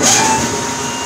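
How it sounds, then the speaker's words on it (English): An old water-cooled vacuum pump used for maple sap production runs with a loud, steady mechanical whine and hum, continuous throughout. "Here goes, the old vacuum pump."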